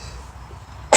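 A single sharp, loud sneeze bursts out at the very end after a quiet room hum.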